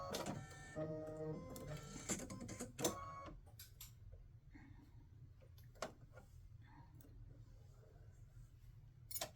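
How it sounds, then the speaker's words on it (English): An embroidery machine stitches a feather placement line on fabric for a football turkey appliqué block, giving a quick, busy run of mechanical stitching at first, then slowing to scattered soft clicks and taps, fairly quiet and close. "now it's going to stitch the second placement, the second feather's placement line."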